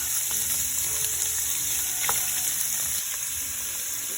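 Shrimp spread out in a hot pan for shrimp fried cauliflower rice sizzle and fry loudly and continuously, with a steady crackling hiss and no talking.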